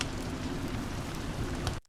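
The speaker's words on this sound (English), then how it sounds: "So this light or gentle rain is just going to fill in." Light, gentle rain from a foley sample library, a steady dense patter that stays even and continuous before cutting off abruptly near the end.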